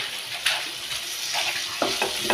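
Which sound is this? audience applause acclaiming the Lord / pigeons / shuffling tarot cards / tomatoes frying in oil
tomatoes frying in oil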